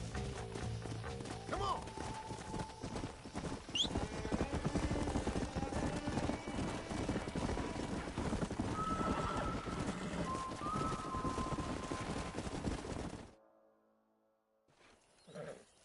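A stallion in the Western video game Red Dead Redemption, with continuous clip-clopping hooves, neighs and whinnies, and rough animal sounds over a busy outdoor scene, with someone speaking briefly before a sudden drop to quiet.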